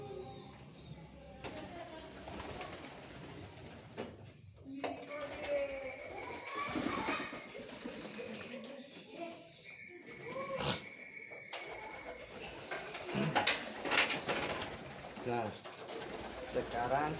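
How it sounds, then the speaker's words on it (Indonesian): Pigeons coo inside a pigeon coop, with soft intermittent calls among rustling and scattered background noise, while a person talks. "Sekarang kita sudah ada di dalam kandang merpati ya teman-teman."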